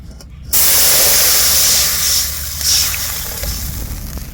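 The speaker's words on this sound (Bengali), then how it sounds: "মাছ সব ভাজা হয়ে গেছে ওই কড়াইতে জল দিয়ে দেবো" Water splashes into a hot wok just used for frying fish, setting off a loud sudden burst of sizzling steam that swells twice more and then settles into a steady hiss.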